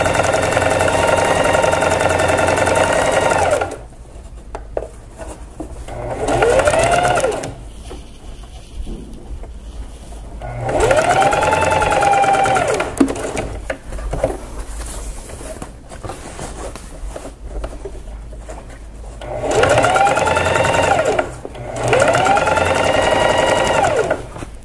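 Sewing machine stitching fabric for an apron, running in several loud bursts of a few seconds each, separated by quieter pauses with faint handling of the cloth, no talking.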